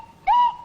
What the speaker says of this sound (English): I was making the clanger voice here, and I'm doing it by using this gadget. It's a swanny whistle.